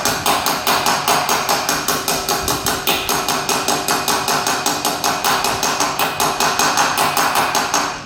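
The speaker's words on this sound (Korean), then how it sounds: "일단은 어, 망치로 살짝살짝 이렇게 때려서 집어넣습니다." Steady rapid hammer taps drive a hub bearing into the front wheel hub of a BMW R1200GS motorcycle, a long even series of sharp metallic strikes close up, with no talking.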